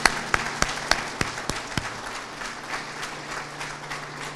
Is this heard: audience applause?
yes